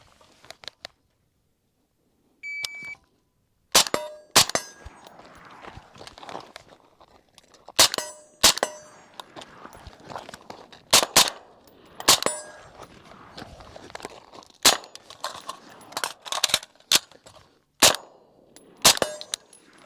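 Shots from an original Armalite AR-180 rifle crack out in a rapid, uneven string of loud, sharp reports, with brief pauses between groups, handling clatter and a reload in the gaps.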